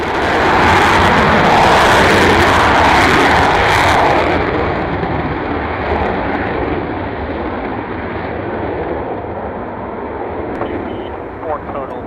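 An aircraft engine starts up on the ramp at Coningsby, a loud sustained roar whose high hiss drops away after about four seconds and then settles into a steady, rumbling run.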